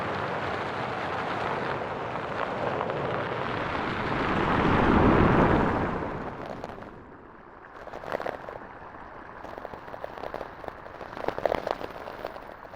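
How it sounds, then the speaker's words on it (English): Heavy surf rumbles and swells, building to a deep roar of crashing waves before settling into softer washing water. "the thud of huge waves coming down"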